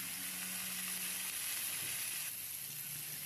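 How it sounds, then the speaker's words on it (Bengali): Cauliflower frying in a pan for a vegetarian cauliflower curry, a steady close sizzle of hot oil that carries on evenly without talk. "এভাবে লাল করে ভেজে নিতে হবে কিছুক্ষণ"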